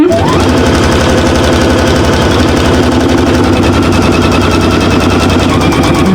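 A sewing machine runs nonstop at full speed, stitching the final seam of a zippered fabric shopper bag, a loud, even rapid needle chatter close up with no talk.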